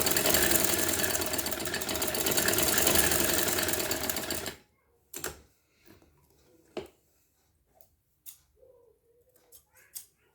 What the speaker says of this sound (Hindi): सारी पट्टी को सिलाई कर दें।